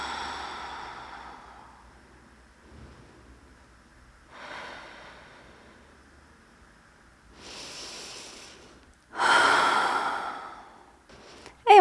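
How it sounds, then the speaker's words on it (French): Slow, deep breathing during a yoga session in mountain pose, soft drawn-out inhales and exhales spaced several seconds apart, close and quiet, with a sharper louder breath near the end. "À nouveau, 3 respirations ici."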